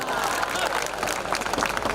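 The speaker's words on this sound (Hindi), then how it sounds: "जिनको समझ में आ गई वो ताली बजा रहे हैं" Audience at a Hindi comedy poetry show clapping, a dense steady burst of applause with crowd murmur mixed in, close and loud throughout.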